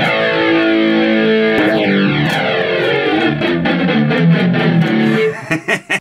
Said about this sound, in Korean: 드라이브도 하나 걸려 있는데 드라이브를 좀 빡세게 한번 걸어볼게요.